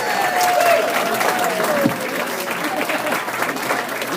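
A stand-up comedy audience applauds and cheers in a steady wash of clapping, with whoops and shouts rising over it.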